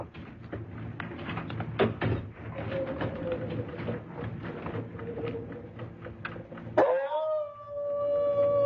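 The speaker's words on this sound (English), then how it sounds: "It's Dog" A dog howls in a radio drama, a long wavering cry that rises near the end over a steady background of sound effects, with no voices meanwhile.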